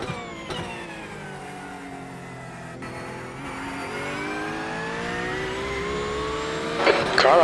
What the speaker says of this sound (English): Blue flag. There's a faster car approaching.